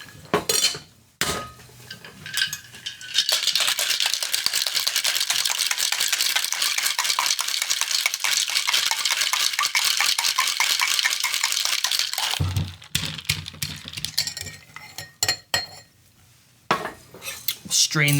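A cocktail shaker packed with ice is shaken hard for about nine seconds, a dense, continuous rattling clatter, bracketed by a few brief clinks of bar tools before and after.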